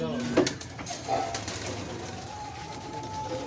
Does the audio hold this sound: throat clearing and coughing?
no